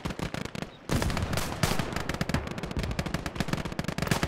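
Machine guns roar in sustained, rapid bursts during a tank defense battle in the modded game Last Grenadier 1946, loud and dense, with a brief pause before the firing resumes.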